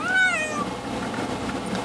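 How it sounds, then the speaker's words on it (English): A pet cat lets out a clear, close meow with a rising-then-falling wavering tone at the start, followed by quiet room noise. "after this intermission of watching the cat doing what he does best"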